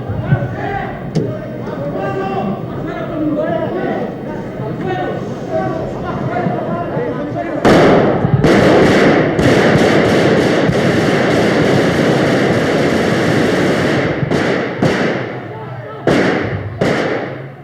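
A 1981 coup attempt in the Spanish Congress: shouting voices give way to a dense burst of sharp, loud gunshots, followed by scattered single cracks, with commotion continuing underneath.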